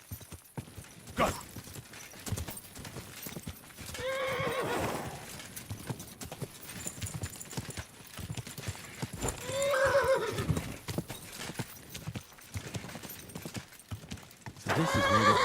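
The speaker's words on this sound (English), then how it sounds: "So this is where the horse led me." Hooves plod in a rough rhythm while a horse neighs loudly several times in the video game Kingdom Come: Deliverance II, each whinny rising and falling, over a faint ambient background.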